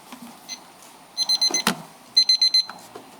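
Beeping speaking-time limit timer at a city council meeting: two bursts of four quick electronic beeps each, separated by a short gap, with faint room noise in between.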